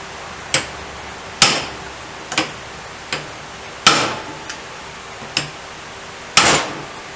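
A rusted part on a Greeves Anglian motorcycle is struck with a hammer to break the rust's hold: about eight sharp, separate metallic taps at irregular intervals, close and clear over quiet background.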